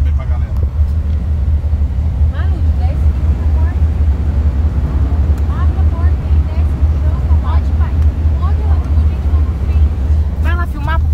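Car engine accelerating hard toward 150 km/h, a loud steady low drone heard from inside while people talk and call out over it.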